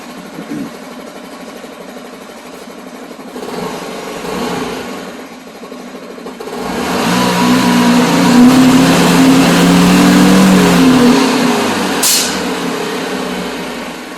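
A moped engine idles after a cold start, then revs up and holds a louder, rising drone for several seconds before easing back slightly, close by with no talking.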